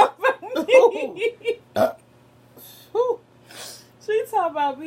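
Loud, drawn-out human burps during a nasty burping challenge, several throaty belches in a row with voiced, bubbly tails, followed by a short gasp and another long rolling burp near the end, with people reacting between them.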